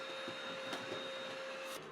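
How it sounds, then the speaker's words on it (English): A household vacuum cleaner running steadily in an apartment during a deep clean, a constant close whine with a few faint knocks. "So I got a vacuum in my hand."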